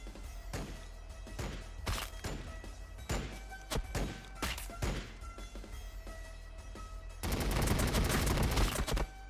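Sustained gunfire in the Warhammer strategy game 40K Battlesector, with repeated loud bursts and shots for several seconds, then a dense, heavier barrage of continuous fire near the end.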